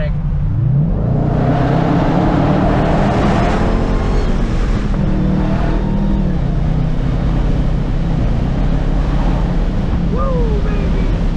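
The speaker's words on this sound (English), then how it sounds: "I love the sound of this exhaust." Dodge Challenger Hellcat fitted with a Zoomer's catback exhaust, run on automatic, accelerating hard with a loud, rising exhaust roar mixed with wind buffeting, while a voice speaks over it.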